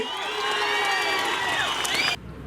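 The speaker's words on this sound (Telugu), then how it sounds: "ఆనందంగా ఉన్నామంటే గట్టిగా చప్పట్లు కూడా చెప్పండి." A crowd at a political rally roars with loud, sustained cheering and shouting, with some clapping mixed in. The noise holds steady for about two seconds, then cuts off abruptly into a quieter murmur.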